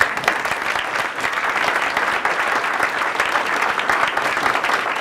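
A room full of people at Moffitt Day 2012 claps steadily for Florida Governor Rick Scott, a broad, even wave of applause holding at full strength throughout.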